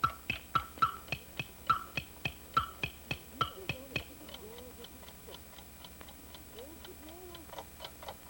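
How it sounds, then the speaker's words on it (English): An alarm clock ticks in a fast, regular run of crisp clicks at close range. The ticking fades to softer ticks partway through, and faint voice-like sounds murmur in the background. "But he can still hear the clock ticking."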